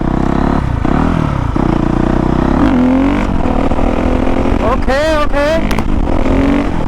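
A 2019 Honda CRF450R dirt bike revs hard while being ridden, its loud engine note rising and falling in pitch through shifts, with someone talking briefly over it.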